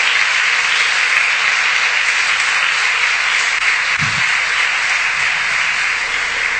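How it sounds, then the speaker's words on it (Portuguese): Congregation applause for the Lord during a Portuguese-language church morning service, a dense, steady wash of clapping that holds evenly across the whole stretch with no talk over it. "Quantos podem dar um aplauso ao Senhor aqui esta manhã por esta palavra?"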